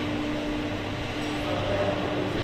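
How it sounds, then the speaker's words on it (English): Train rumbling through a tunnel at the Tideway Tunnel works near the Chambers Wharf shaft in London, a steady low drone with a hum that carries evenly throughout and swells slightly toward the end. "There's your train."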